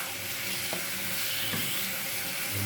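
Squash pieces hit a hot pan and sizzle steadily, with a brief stir scraping through partway and a few soft clatters, a close, continuous frying hiss throughout.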